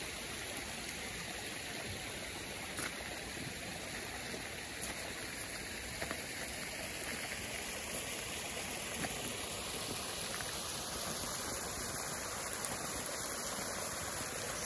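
Water flows steadily in a stream beside a garden with a bronze stag statue, an even, continuous rushing wash with no pauses, broad and moderately loud, heard alone without any voices.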